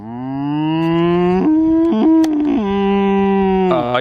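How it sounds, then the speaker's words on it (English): A cow on a countryside walk moos loudly and close, one long drawn-out low call that rises and wavers in pitch over several seconds, heard alone. "oh, you got to have a cow, haven't you?"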